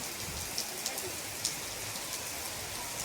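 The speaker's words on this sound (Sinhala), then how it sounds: "ඔන්න ඉතින් ටික පටන් ගත්තා වැස්ස." Steady rain falls on a surface as a dense, even hiss, with a few sharper drop ticks standing out, close and alone for a few seconds.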